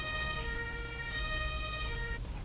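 Ambulance siren from the Emergency video game, a steady electronic wail with stacked tones sounding continuously and loud throughout, with no talk over it.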